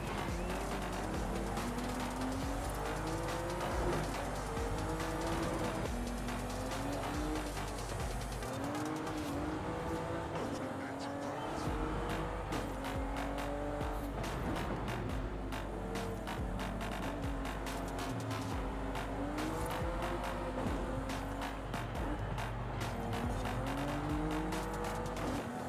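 A 2011 McLaren 12C races a lap in Forza Horizon 5, its engine loud and continuous, revving up and down through gear shifts, with tires squealing as the car slides sideways, steady and close throughout.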